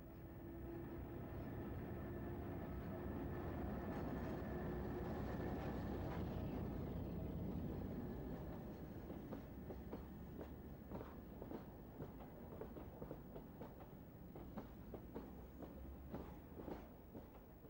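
A British Rail Class 08 shunter pulls empty coaching stock, including Mark III coaches, out of a station in Cornwall, heard as a faint, continuous rumble with light rail clatter, distant and steady.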